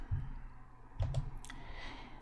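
A computer mouse gives two soft, close right-clicks about a second apart in a quiet room.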